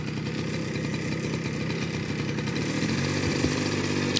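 A motorcycle engine held at steady throttle during a riding lesson for a woman over fifty in Madurai makes a continuous close drone that rises slightly toward the end.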